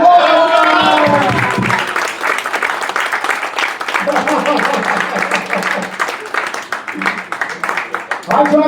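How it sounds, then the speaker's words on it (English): A comedy show crowd breaks into loud, sustained applause with dense clapping, and voices shout and cheer over it throughout. "Give him a round of applause!"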